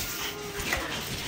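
Teacup Pomeranian dogs whimpering softly at close range, a thin high whine over a steady background hiss, with faint yips mixed in.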